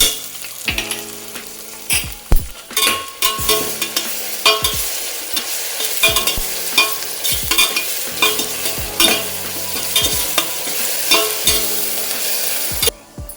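Ginger, garlic and green chilli paste frying with onions for peas pulao, loud close sizzling broken by repeated scraping stirs of a spoon against the pan at an uneven rhythm.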